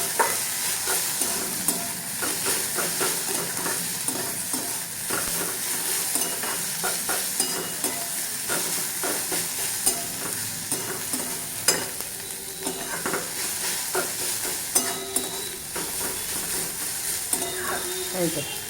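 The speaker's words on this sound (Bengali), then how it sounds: "এর মধ্যে রসুন আর এই পেঁয়াজ ভাজাটা এখন দিয়ে দিলাম" Garlic and fried onion sizzle steadily in hot oil while being stirred in a pan, with continuous frying hiss and frequent scraping, clinking spoon strokes throughout, close up.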